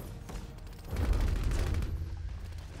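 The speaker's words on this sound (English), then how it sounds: "Oh, that is my shotgun." Shotgun fire in the video game Bloodhunt, a dense burst of booming shots and crackling impacts that swells loudly in the middle and lingers with rumbling game noise.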